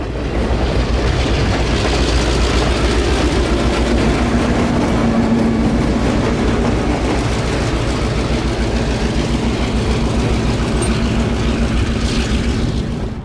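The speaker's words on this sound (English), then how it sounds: "Leading the train north this afternoon would be SGLR 502 and EMD F7A, and on the other end would be SGLR 578 and EMD GP10." Seminole Gulf Railway Christmas train led by an EMD F7A with an EMD GP10 on the other end, a loud, continuous diesel engine rumble and rolling rail noise sustained close by for the whole stretch.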